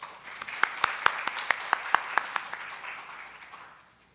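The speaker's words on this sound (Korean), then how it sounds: "네, 박수로 맞아주시기 바랍니다." Light applause from a small conference audience welcoming a speaker, about a dozen distinct claps in a loose rhythm that thin out and fade over the last second or so.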